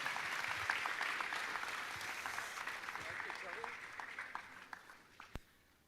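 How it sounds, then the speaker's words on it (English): An audience at an Arkansas college heritage commitment ceremony gives a round of applause, distant dense clapping that thins and fades over several seconds, a few last claps and murmured voices at the end. "Let's give a giant loud round of applause."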